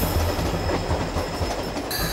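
A train to Bardhaman runs steadily along the rails, its rumbling wheels and carriage clatter continuous and close for a couple of seconds, with no voices.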